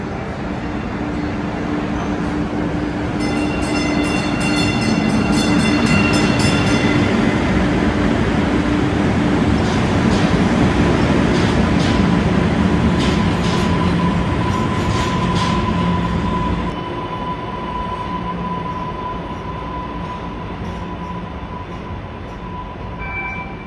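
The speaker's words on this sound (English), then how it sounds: "I love it when the trams give us horns." A tram rumbles loudly past at close range, with steady rail roar, clattering wheels and high squealing tones, before the noise slowly fades as it moves away.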